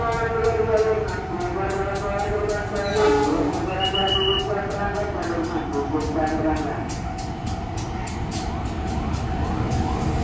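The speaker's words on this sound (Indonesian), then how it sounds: "jalur 1 kereta api Jayabaya menuju Malang via Semarang Surabaya diberangkatkan" The Jayabaya passenger train bound for Malang pulls out of a busy Jakarta station, its deep rumble and tonal horn-like drones carrying over rhythmic wheel clacks, with a voice audible in the background.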